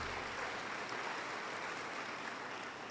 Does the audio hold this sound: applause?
yes